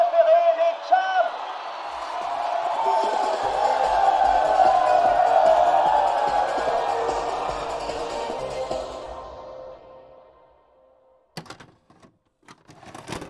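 An audience applauds and cheers a band, a dense wash of clapping and whoops that swells for several seconds and then fades away, leaving a few scattered sounds near the end.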